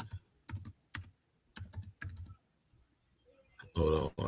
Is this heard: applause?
no